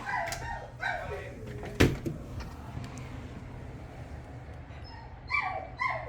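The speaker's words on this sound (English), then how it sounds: "Don't mind the dogs here." Dogs whimpering and giving a few short yips and barks in a room, a sharp bark near the middle and whines at the start and end, with some low background noise.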